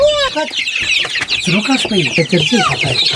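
A crowd of newly bought chicks cheeps shrilly and nonstop close by while adult chickens cluck low beneath them near a freshly built coop.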